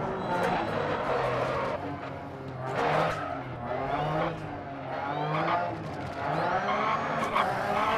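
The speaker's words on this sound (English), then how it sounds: "I can already hear the wheels are screeching around a lot" In the video game Dirt Rally, a rally car's tyres screech and squeal almost continuously over a loud engine drone for several seconds, rising and falling in waves as the car slides around corners.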